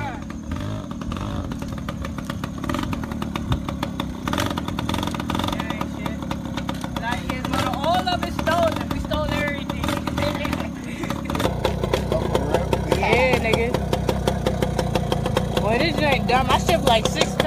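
A Yamaha PW80 mini bike engine runs steadily with a buzzing two-stroke drone, growing slightly louder near the end, with voices talking over it throughout.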